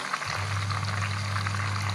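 Fish sizzles as it fries in oil in a pan, a continuous crackling hiss held steady throughout with a low hum beneath and no talking.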